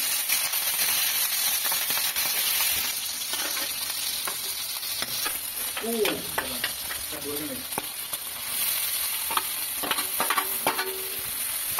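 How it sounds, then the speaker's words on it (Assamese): Duck meat dry-fries directly in oil, a strong continuous sizzle and crackle close by with occasional stirring noises, and a voice briefly speaks midway. "ডাইৰেক্ট তেলত মাংসখিনি দিছোঁ"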